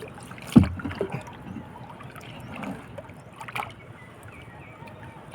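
Water sloshes and knocks against a small rowboat, with a few louder splashes and creaks over a steady murmur of moving water.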